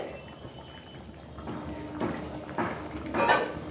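Milk pours into a pan of green chicken curry (hariyali chicken), giving a soft, steady liquid gush with a few faint kitchen clinks, close and moderately quiet.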